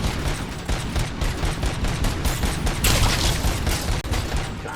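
Light machine guns fire in dense, continuous bursts in the video game RoboCop: Rogue City, a loud, close barrage of rapid shots with no pauses.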